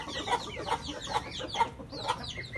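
Rooster and hens in a cage, with a repeated burst of clucking and squawking roughly every half second while the birds fight nearby.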